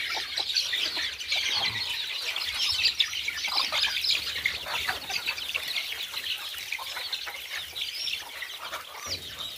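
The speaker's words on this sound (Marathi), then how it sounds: "मोठ्या कोंबड्या इकडे आहे आपल्या" A flock of chickens, including large hens, let out of their coop, clucking continuously with overlapping calls and chirps nearby, no talking.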